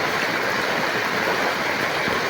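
Flood water during a typhoon rushes steadily and loudly, a continuous broadband roar like a stream, close by with no voices.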